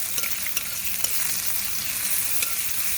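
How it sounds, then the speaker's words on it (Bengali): Chopped onion fries in hot oil with cumin and bay leaf, the base for a tengra fish and okra curry: a steady close sizzle with light, irregular stirring clicks and no voices. "এখন আমি পেঁয়াজ কুচিটাকে ভেজে নেব, বাদামি করে ভেজে নেব।"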